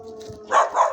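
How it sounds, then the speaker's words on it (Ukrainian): A dog barks twice in the countryside near a woodpile, short sharp barks at moderate distance over a steady background hum. "Їй так спокійно ну, гавкає на мене"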